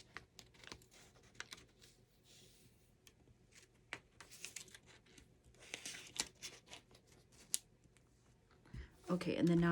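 Plastic backing is peeled away from ironed-on vinyl in a series of faint, crinkly crackles and ticks at close range, growing slightly louder toward the end.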